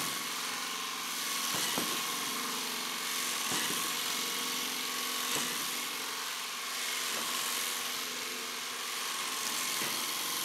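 A robot hopper motor spins Thrifty Bot 2-inch squishy wheels that feed balls toward a shooter, making a steady high whirring drone broken by soft periodic thumps about every two seconds.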